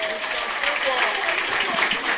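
An audience at a political campaign engagement claps loudly in dense, continuous applause, with voices and crowd chatter mixed in throughout.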